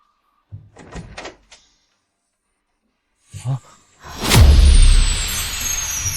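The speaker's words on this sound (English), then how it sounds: "Go open the door." A door opens indoors with a couple of soft knocks or handling clicks first, then a loud whooshing sweep and sustained rumble as it swings open, fairly close and clear.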